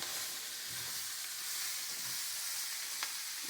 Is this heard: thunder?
no